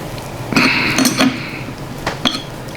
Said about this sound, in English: Then we're going to tighten up the lock nut with the spanner.